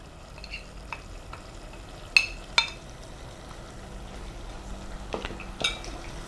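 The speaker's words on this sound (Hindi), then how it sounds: "इनको 1-2 मिनट भूनेंगे। गोश्त के साथ अच्छे तरीके से मिक्स करेंगे।" Powdered spices frying with softened tomatoes and mutton in a pan, a low steady sizzle broken by a few sharp metallic clinks of a spoon stirring against the pot, no voices.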